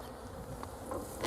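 Bees buzz faintly near a hive setup, a soft continuous drone with a few brief louder passes close to the microphone and no talking.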